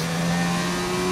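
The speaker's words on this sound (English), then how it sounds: "Ferrari hot lap." A Ferrari race car on a hot lap at Singapore gives a brief, loud, steady engine drone with a sustained buzzing pitch.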